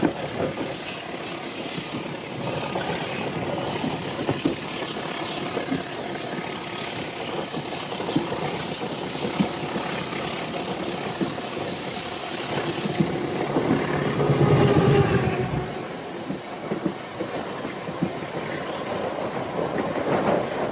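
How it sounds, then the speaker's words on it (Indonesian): A parcel train running from Kampung Bandan to Malang on track 4 at a station rolls past with a steady rumble of wheels on rails, rhythmic clacking and high squealing, heaviest near the middle, with no voices. "di jalur nomor 4 ini ada kereta parsel ya teman-teman, parsel tengah dari Kampung Bandan tujuan ke Malang."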